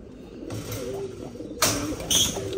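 Domestic pigeons cooing in low, soft repeated phrases close by, with brief rustling bursts and faint background voices.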